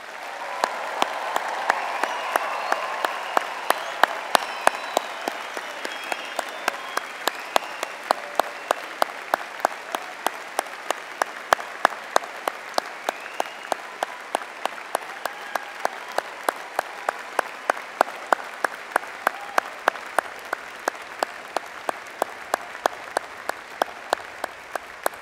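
Sustained audience applause at a university graduation ceremony for the Faculty of Media & Communication, a steady, dense clapping from a large crowd that continues at an even level throughout, with no voices over it.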